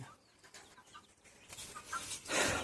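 Free-ranging hens and a rooster out foraging, giving scattered soft clucks and chirpy calls at moderate distance over a faint outdoor background, with a louder burst of activity near the end.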